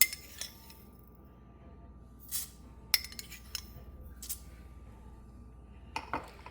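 Tempering ingredients mixed in a pan with a utensil, giving a few scattered metallic clinks and scrapes against a quiet background.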